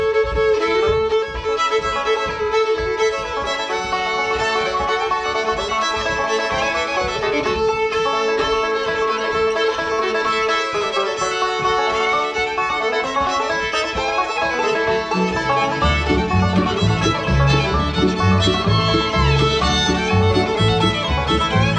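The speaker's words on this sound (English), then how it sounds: "You might have a party in your kitchen with nothing but fiddle and banjo." Fiddle and banjo playing together in a lively folk tune, fiddle lines sustained over bright plucked banjo picking, with fuller, heavier accompaniment joining in toward the end.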